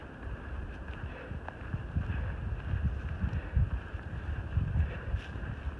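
Wind blowing on a mountain trail near Bly Gap, North Carolina, a low buffeting rumble in gusts with a faint steady whine in the background, no voices.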